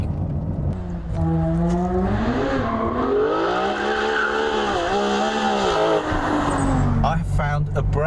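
Ferrari 599 GTO accelerating hard, its loud engine note climbing in pitch, dipping at gear changes and rising again, close and dominant throughout.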